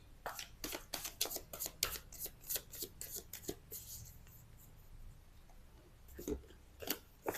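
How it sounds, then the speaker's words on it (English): A run of quick papery riffles and taps, tarot cards being shuffled close by in bursts, then a pause and a few more snaps near the end. "Let's do a quick shuffle"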